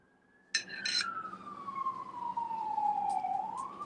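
A police siren wails alone at moderate loudness, a single long descending sweep that bends back upward at the end, with a couple of brief chirps at the start.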